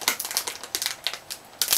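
Plastic wrapper of a packet of strawberry candies crackles and crinkles in quick, close bursts as it is torn open, with no talk.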